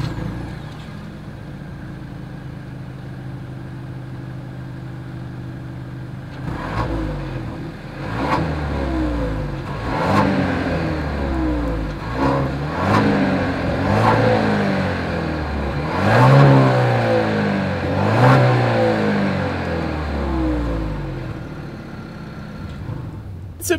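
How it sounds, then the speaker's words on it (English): A 2021 Genesis GV80 luxury midsize SUV revving through its exhaust, deep engine swells rising and falling in several repeated blips after a steady idle, loud and close. "As always, here is that exhaust clip."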